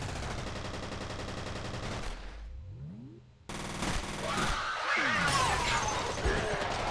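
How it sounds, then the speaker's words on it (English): Submachine gun fire in the shooter game F.E.A.R., sustained rapid bursts with crashing impacts and debris, loud and dense, briefly dropping out before resuming with heavier clatter. "I'm going with my submachine gun."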